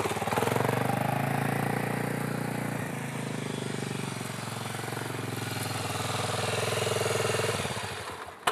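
A motorcycle engine running steadily during a riding demonstration, a loud, sustained buzzing drone with a slight rise and fall in pitch, close by, cutting off near the end.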